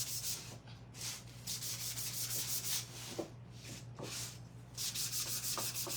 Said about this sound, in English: I'm gonna do a light sanding.